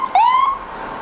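A fire engine siren from the Denton Rural Fire District, heard during the Winifred, Montana centennial parade, gives one loud rising wail that levels off and fades over about a second outdoors.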